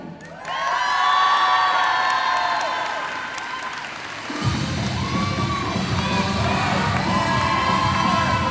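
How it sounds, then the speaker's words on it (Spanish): An audience at a school Mother's Day festival breaks into a strong ovation, with cheering, whoops and children shouting that swell loudly, then continuing applause and crowd noise carrying on beneath. "Una fuerte ovación."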